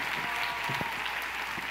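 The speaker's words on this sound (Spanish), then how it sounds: "Aplauso, ¿no?" Audience applause at an awards ceremony for theatre performances, steady dense clapping filling the whole moment with faint voices underneath.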